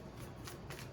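Tarot cards being shuffled by hand, a soft continuous riffling and sliding of card stock close by with a few brighter flicks, alone without talk.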